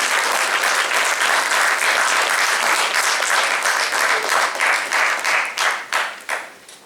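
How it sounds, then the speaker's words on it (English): A business summit audience gives a loud, dense round of applause that holds steady, then thins into scattered claps and fades out. "I would want everybody to give a big round of applause."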